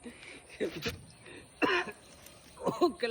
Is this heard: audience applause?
no